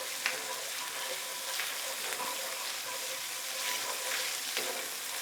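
Puttanesca sauce with chicken bubbles and sizzles steadily in a skillet while a spoon stirs it, scraping faintly with occasional soft clicks, close and continuous with no talking.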